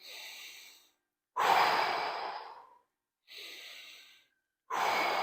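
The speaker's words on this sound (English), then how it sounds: "10 deep breaths." Deep breathing during a hip and low back stretch, four slow loud breaths alternating inhale and exhale, each a long airy rush of about a second, separated by short silent pauses, close and alone.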